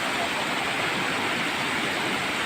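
Steady rushing water pours continuously, a small waterfall flowing at moderate volume with no pauses or other sounds standing out.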